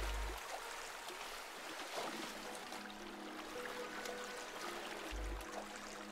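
Flowing water trickles and rushes steadily through a sewer in the game Darksiders 2, a continuous watery wash with low thuds near the start and end.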